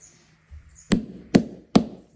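Three sharp, separate strikes of a cast iron hammer driving cast Tricouni boot nails, spaced roughly half a second apart, loud and close, with faint handling noise before them.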